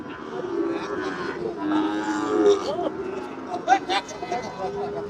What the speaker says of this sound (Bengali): দর্শক সামনে কিন্তু যথেষ্ট গরু আছে